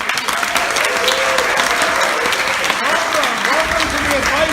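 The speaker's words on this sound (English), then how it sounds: "So how about a round of applause for our audience?" An audience applauding, with dense, sustained clapping and a few cheers, filling the space evenly from start to finish at a strong, steady level.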